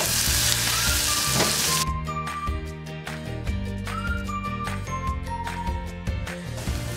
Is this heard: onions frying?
yes